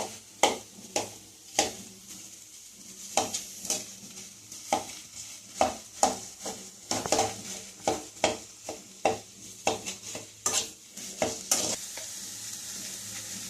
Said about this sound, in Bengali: আমি আলুগুলোকে ভালো করে ম্যাশ করে নেব।